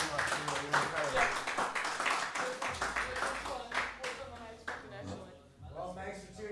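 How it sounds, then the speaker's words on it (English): Audience applause with clapping and light cheering following a talk show segment, a dense wash of claps mixed with voices that fades toward the end, moderately loud. "Can we get a round of applause for this amazing human being?"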